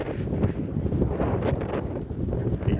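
Strong wind roars across a farm, buffeting the microphone with a dense, continuous low rumble and gusty surges throughout.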